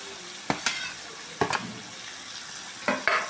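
Pureed spinach cooks in oil in a pan, a soft steady sizzle broken by a few sharp scrapes and clinks of a spoon against the pan, close and fairly quiet, without speech.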